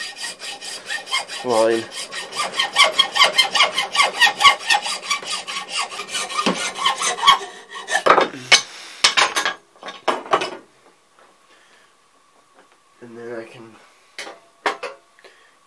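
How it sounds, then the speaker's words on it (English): A hand saw rasps back and forth through a piece of antler clamped in a vise, in a long run of rhythmic, steady strokes. Short sawing bursts follow, with brief speech in between. "So I'm going to put that piece of antler in the vise and cut on my Sharpie"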